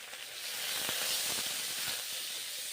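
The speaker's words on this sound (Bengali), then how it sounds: "ভেজে নিচ্ছি নিম পাতাগুলো।" Neem leaves frying in hot oil with salt and turmeric give off a steady, bright hiss and sizzle, with a few faint crackles rising out of the continuous frying noise.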